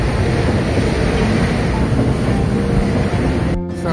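An LRT train rumbles overhead along an elevated line in Manila, a loud continuous roar with a broad rushing hiss that holds steady, heard from directly beneath the tracks.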